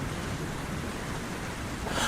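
Heavy rain pours in a Hindi cartoon about a bird, a dense, steady hiss that stays constant and fairly loud for the full stretch with no voices.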